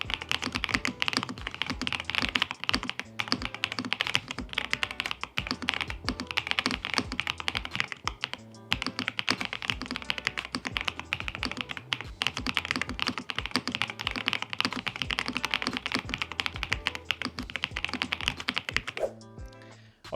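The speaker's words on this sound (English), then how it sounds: "So to prove it, let me do the sound test." Fast continuous typing on an RK M87 mechanical keyboard with sound-absorbing silicone, dense close clacks and thocks in an unbroken stream, no talk over it.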